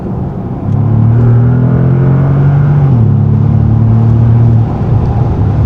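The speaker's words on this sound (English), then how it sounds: "The car fires on, limiter off, and off we go." A 2025 Bentley Continental GT in sport mode fires up after a short quiet moment, then holds a loud, deep, smooth engine rumble with a brief rev change midway before settling back.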